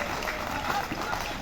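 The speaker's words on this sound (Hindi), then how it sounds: "अब दोनों हाथ उठाकर ताली से मां का अभिनंदन तो करिए" Audience applause at an all-India poetry gathering in Burhanpur, Madhya Pradesh, a dense, steady patter of many hands clapping with crowd murmur underneath.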